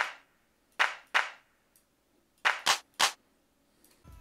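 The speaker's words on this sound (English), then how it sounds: "So I got these two claps, pitch one down a bit, then the other one, and that'll be our clap." Two layered clap samples in a hip-hop beat, one pitched down, sounding as sharp, dry hits in short pairs and singles with silence in between.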